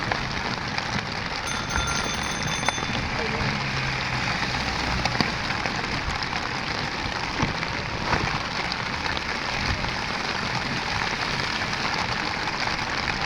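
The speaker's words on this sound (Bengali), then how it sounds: "দেখেন কি পরিমাণ বৃষ্টি হইতেছে" Heavy rain pours onto a waterlogged road, heard from a rickshaw ride through the Bashundhara area: a continuous, moderately faint hiss of falling rain with faint tonal beeps early on.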